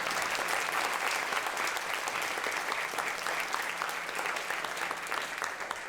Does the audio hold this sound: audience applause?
yes